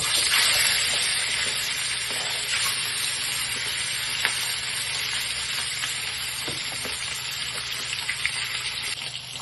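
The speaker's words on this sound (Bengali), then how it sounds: "এই যে মাছ আমি ধুয়ে লবণ হলুদ মাখিয়ে রেখে দিয়েছিলাম এবারে আমি একটা একটা করে ভেজে নেব" Salted, turmeric-rubbed rui fish pieces fry in hot oil, making a loud, dense, continuous sizzle with scattered pops and crackles, no voices over it.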